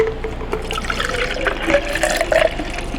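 Strawberry lemonade vitamin water poured into a pink cup, a steady, close liquid splash and gurgle that rises in pitch as the cup fills nearly to the brim.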